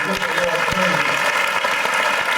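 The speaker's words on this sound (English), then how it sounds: "Now I want you to clap your hands right here." A church congregation claps their hands on a bishop's urging, a continuous wash of clapping with tonal voices or music mixed underneath.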